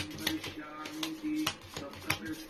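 A deck of tarot cards being shuffled by hand: a quick run of soft, crisp card clicks and slaps in an uneven rhythm, close by, with a faint voice murmuring underneath.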